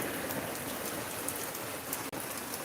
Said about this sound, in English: And the rain just started